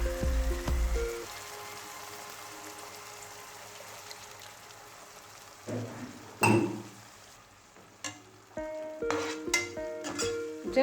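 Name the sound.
mixing egg masala curry after adding tamarind pulp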